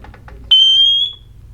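An Emerald Vulcan smoke alarm with its battery removed gives a single shrill, piercing beep when the test button is pressed, holding loud for about half a second before fading quickly as its stored charge drains away.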